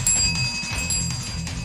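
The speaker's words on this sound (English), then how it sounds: "I need a new bell." Small bell struck in a radio studio, thin ringing tones with a short decay, brief and fairly clear against a low background hum.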